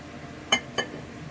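A glass bottle being handled for bottle cutting gives two quick, light clinks a fraction of a second apart, close and fairly quiet in an otherwise still room.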